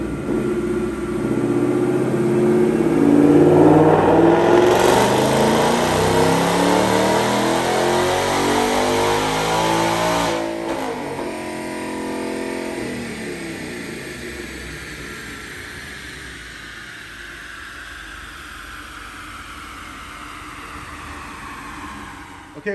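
A supercharged 2021 Roush Mustang GT with a manual transmission on a dyno pull, engine rising loudly to a high-rpm scream with supercharger whine, then dropping off and winding down to a fading coast.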